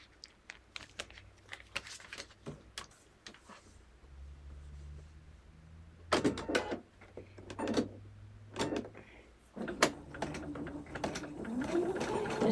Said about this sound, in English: Just stitching up this seam here